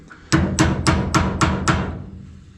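Six sharp, evenly spaced hammer blows ring out close and loud as Bob-Tach pins are driven into a Bobcat 751 loader, each strike decaying quickly before the next.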